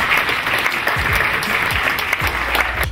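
Steady, dense applause from an audience fills the whole stretch, many hands clapping at once at an even level with no pauses.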